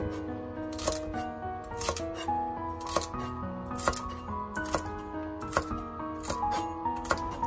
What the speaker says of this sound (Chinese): 最后再把洗干净的芹菜切成